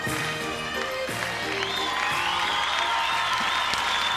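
A crowd applauds after a Viennese Waltz at the 2002 European Standard ballroom dance championship in Denmark, with sustained clapping and a few cheers.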